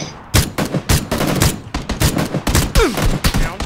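Video game gunfire rings out as a rapid series of loud, sharp shots in irregular bursts, close and punchy, with a brief whizzing sound near the end.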